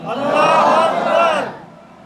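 A gathered crowd at a religious sermon shouts Allahu Akbar in answer to a takbir call: one loud, close, unified roar of many voices that swells, holds for about a second and a half, then fades.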